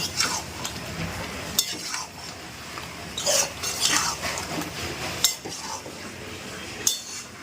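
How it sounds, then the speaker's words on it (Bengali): Chicken is stirred and sautéed in a pan on raised heat, a spatula scraping and clinking against the metal in irregular strokes over a low sizzle, close and fairly loud, with no talking. "একটুখানি গ্যাসটা বাড়িয়ে দেবো দিয়ে সুন্দর করে কষাবো"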